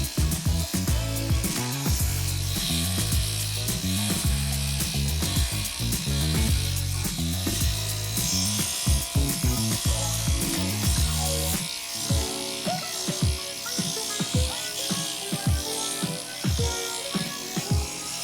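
A Wahl electric clipper fitted with an A guard comb trims a dog's coat, giving a close, continuous buzz broken by quick, rhythmic skimming strokes through the fur.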